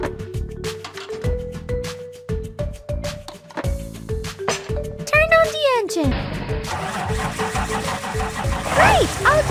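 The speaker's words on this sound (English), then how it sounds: "Turn on the engine." A cartoon school bus engine starts up and runs with a rough, rumbling burst partway through, mixed over bright, bouncy children's music.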